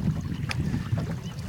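A small Drascombe sailing boat under a little sail moves through the water of Clew Bay. A steady low wash of water and hull rumble runs throughout, with a brief hiss of spray or wind, close and moderately loud, and no talk.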